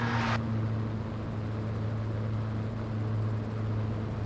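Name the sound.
gyroplane engine in flight, reducing power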